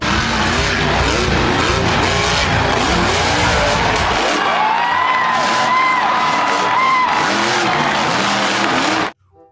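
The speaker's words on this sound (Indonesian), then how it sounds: "Wih, yang ini ada mobil monster." Monster truck with roaring engine and squealing, skidding tires, loud and continuous, with a faint crowd cheering in the distance; the sound cuts off abruptly near the end.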